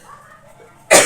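A single sharp cough bursts in near the end, close and loud, after near silence with a faint background voice during a geography lesson.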